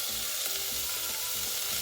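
Garlic, a whole jalapeno and diced onion sizzle steadily in an Instant Pot on saute, a continuous bright crackling hiss with low hum underneath and no voices.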